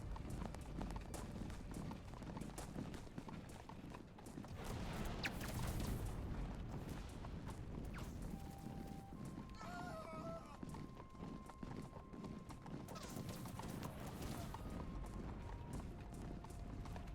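Charging hussar horses gallop in a historical battle game, a continuous rumble of hoofbeats under battlefield din and a few tonal game sounds, with a voice speaking over it.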